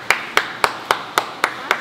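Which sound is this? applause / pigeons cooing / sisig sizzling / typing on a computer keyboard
applause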